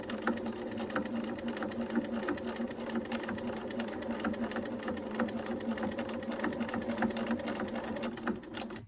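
A sewing machine runs steadily, stitching a seam along the lining of a fabric pouch with the needle in the far left position, a continuous close whirring hum with rapid needle pulses throughout.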